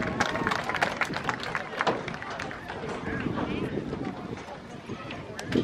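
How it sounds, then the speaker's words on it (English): Applause and crowd noise fill the bleachers at a peewee junior football homecoming game, steady and fairly loud throughout, with scattered claps and murmuring voices mixed in. "Everybody give Aunt Amanda a round of applause here"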